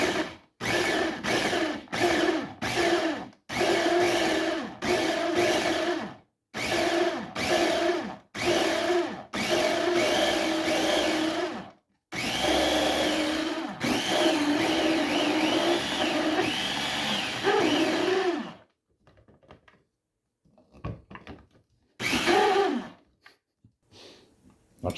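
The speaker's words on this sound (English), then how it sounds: "let's blend it up kind of slowly" Kitchen blender chopping peppers with vinegar into pepper sauce, running in loud bursts of pulsing that stop and start repeatedly, then one longer continuous blend before falling quiet with a few brief pulses at the end.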